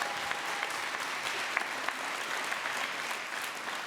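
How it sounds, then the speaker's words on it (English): Steady, dense applause from a large audience, continuous clapping at an even level throughout. "Give one final round of applause for Marzieh."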